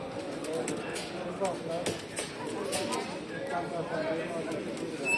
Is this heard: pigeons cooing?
yes